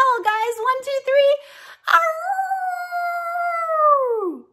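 Cartoon children imitate dogs with their voices: short sung, voice-like sounds, then a loud, sustained, dog-like howl that slides downward and fades at the end.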